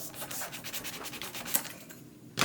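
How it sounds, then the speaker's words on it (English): A hand saw cuts through a piece of balsa wood, a close, soft rasping of quick, even strokes that ends with a sharp snap or knock at the finish. "now I'll just take my trusty saw and cut that guy"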